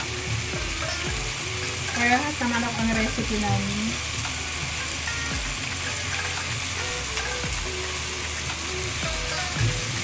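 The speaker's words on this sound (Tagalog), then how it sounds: "Panoorin yung kumukulo yung chicken wings ko" Chicken wings fry steadily in hot oil with a constant close sizzle and occasional stirring, while a voice speaks briefly near the start.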